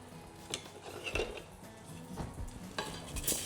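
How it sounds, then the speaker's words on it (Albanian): Rice grains toasted and stirred in melted butter in a pan for a creamy shrimp rice dish, giving a steady close sizzle with repeated scraping strokes of the spoon and light clinks against the pan, no speech. "Gjalpa është shkrirë, ta shtoj orizin duke mbulu sipërfaqen"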